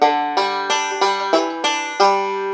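Bluegrass banjo picking the Long Journey Home melody line, seven bright plucked notes in an even rhythm, each ringing and decaying, close and clear with no talk.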